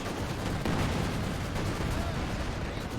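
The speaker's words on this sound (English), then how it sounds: "That is going to be a deadly Katusha barrage." A Katyusha rocket barrage in the Company of Heroes 2 war game, a dense continuous roar of rapid blasts and rumbling fire that stays loud and steady throughout with no speech.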